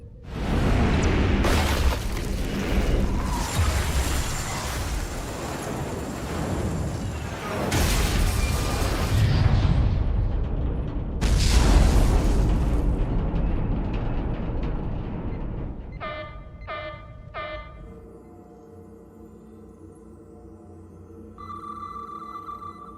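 A starship firing a salvo in the Star Trek Resurgence video game, loud booming blasts and crashing explosions in heavy bursts, then sonar-like pings and electronic tones as the rumble fades.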